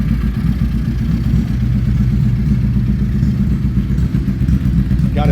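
A 2000 Suzuki VZ800 Marauder motorcycle engine runs on a chilly morning without choke, its first start after a carburetor rebuild: a steady, close, low rumbling idle throughout.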